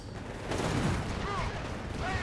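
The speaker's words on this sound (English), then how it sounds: "More bazooka fire here." Bazooka rockets in Company of Heroes 3 fire in a short, dense stretch of blasts and rumble with battlefield clatter and a voice talking over it.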